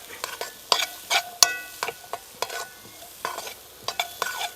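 Pieces of bitter gourd, seeds removed and chopped small, fry in a pan with a soft sizzle while a spoon scrapes and stirs them in quick, irregular strokes, close up with no talking.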